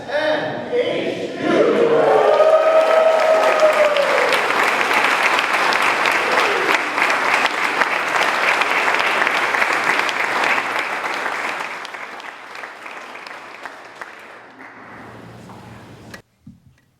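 A crowd at the Alumni Hall unveiling during a homecoming reception bursts into cheering and sustained applause, with a few shouts at the start, holding strong before gradually fading out.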